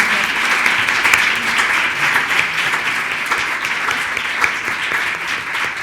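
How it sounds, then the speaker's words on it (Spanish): An audience at a biomedicine, ethics and law seminar claps after a lecture, steady dense applause from the whole room that continues evenly throughout. "le damos un fuerte abrazo y un fuerte aplauso a Sara y..."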